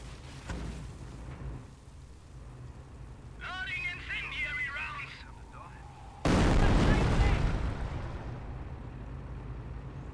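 Squad barrage gunfire in Company of Heroes: scattered distant shots and rumble, a high chirping interlude, then a sudden loud blast that lingers and fades, with a voice talking at points.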